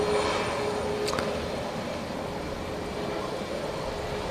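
An airliner, an Air France flight bound for Paris, heard in the evening from a runway viewing park at Manchester Airport, as a steady broad engine roar that stays fairly constant throughout, with no talking.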